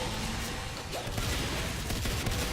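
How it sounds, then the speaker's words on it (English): Shotgun blasts and dense gunfire in the video game Natural Selection 2, a continuous loud clatter of shots with a few sharper booms around the midpoint and near the end. "Ooh, a couple shotgun blasts right there."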